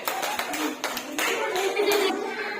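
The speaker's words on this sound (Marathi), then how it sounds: "टाळ्या वाजवा रे." Children clap their hands in quick irregular bursts, close by, with chattering voices and a bit of laughter mixed in.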